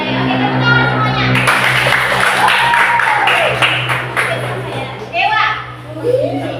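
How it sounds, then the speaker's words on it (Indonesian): A group of children clapping together in a classroom, mixed with chatter and a few young voices rising over the noise. "Oke, tepuk tangan semuanya."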